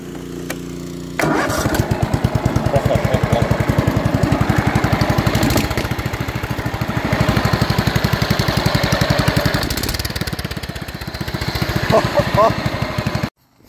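A Simplicity riding mower engine runs with its muffler removed, a loud, rapid, steady popping exhaust beat close up after it fires, with rough patches, a brief dip in pace near ten seconds and clanks toward the end.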